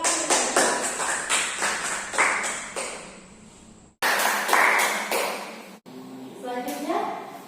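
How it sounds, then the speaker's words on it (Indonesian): A classroom group claps in rhythmic, patterned bursts, a steady chant-like sequence of hand claps that pauses twice and ends with a looser flurry, loud and close, with voices mixed in. "Tepuk tangan."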